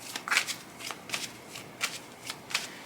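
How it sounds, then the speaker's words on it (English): Tarot cards being shuffled by hand, a close, steady run of soft riffling flicks and slides repeating in a loose rhythm, with no talking. "let's pull some more cards here."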